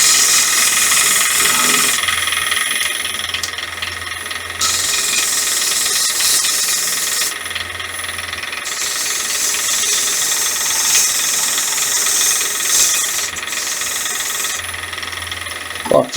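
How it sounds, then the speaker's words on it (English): A wood lathe spins a workpiece in a workshop, giving a steady loud whirring hiss with a repeating low hum that comes and goes in sections, and no voices. "bit of practicing on lathe, spinning some wood"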